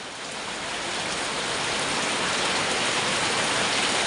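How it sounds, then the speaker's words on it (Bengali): Heavy rain pours down in a steady, dense hiss that stays close and constant throughout, slowly growing a little louder, with no voices over it. "একটু আগের থেকে আবার বৃষ্টি শুরু হয়ে গেছে"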